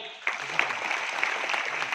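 An audience at a recognition event claps steadily in a dense, moderately loud burst of applause lasting about two seconds.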